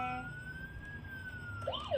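A thin electronic siren tone from a toy emergency vehicle wails steadily, then shifts into a rising and falling yelp near the end, with no talking over it.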